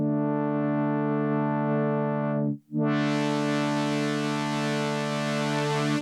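A buzzy, harmonically rich Sequential Take 5 synth tone drones steadily, cuts out briefly, then returns brighter and more distorted with added high-end grit as the drive knob is turned up.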